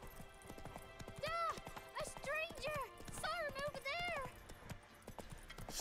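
Horse hooves clip-clop steadily in The Witcher 3 while high pitched squealing cries and a brief voice rise over the rhythmic footfalls, all fairly close and moderately loud.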